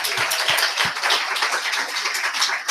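A small audience at a talk claps in a brief round, with a few distinct sharp claps at the start blending into a lively patter.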